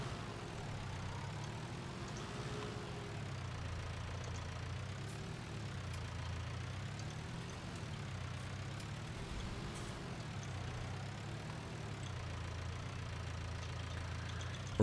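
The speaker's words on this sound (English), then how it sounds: "Let's go ahead and park the tractor up for a minute." Tractor engine idling steadily while parked on a farm in the French countryside, a low, throbbing diesel rumble with a faint rhythmic knock, constant and close for the whole stretch with no talk.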